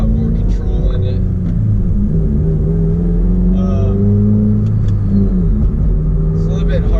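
A 2017 Subaru WRX pulls away from a house, with steady close engine rumble and road noise from inside the car and a voice talking over it.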